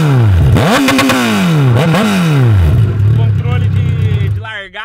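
A Kawasaki Z1000 motorcycle running only an exhaust pipe revs hard twice, rising and falling sharply while it climbs a street, then settles into a loud, steady idle rumble before fading.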